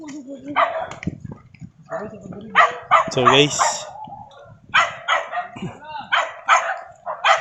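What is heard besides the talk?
dogs barking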